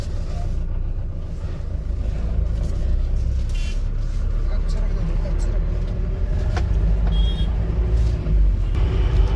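A new Mahindra Bolero pickup truck drives along with a steady low engine and road rumble inside the cab, while people talk over it throughout.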